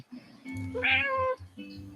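A cat meows loudly and close by, one drawn-out, rising and falling call lasting about a second, with a low engine-like hum or background rumble underneath and quieter room noise around it.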